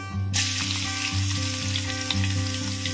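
Garlic drops into hot oil and bursts into a loud, steady sizzle that begins abruptly and continues without a break, close up, with a faint low hum beneath.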